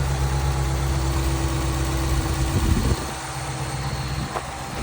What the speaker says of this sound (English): this is what the engine looks like and sounds like